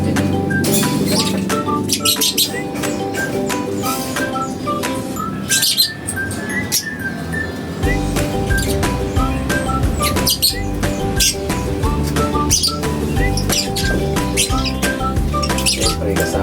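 Caged lovebirds chirp and squawk continuously, with dense, rapid overlapping calls and occasional harsher squawks, close and loud throughout.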